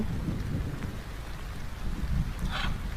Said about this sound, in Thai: เสียงนกร้องได้ยินแต่เสียงฝน